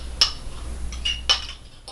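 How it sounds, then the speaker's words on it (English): A metal fork clinks against a bowl while a liquid is stirred in for a microwave chicken stew, a few sharp, bright taps spaced apart with quiet between, close and fairly soft. "I've got a fork, and I'm going to slowly pour this in here, and I'm mixing it as I do"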